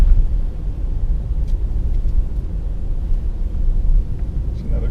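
An Infiniti Q60 3.0T accelerates hard through a corner, heard from inside as a steady, loud low engine and road rumble that swells slightly without clear gear changes.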